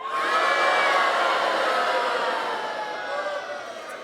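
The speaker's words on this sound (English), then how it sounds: "on a count of 3, I want you all to boo me" A comedy club audience booing on cue, a broad sustained crowd roar that swells quickly and then slowly fades over a few seconds, without any single voice standing out.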